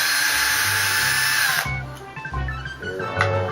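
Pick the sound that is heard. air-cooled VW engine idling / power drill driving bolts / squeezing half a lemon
power drill driving bolts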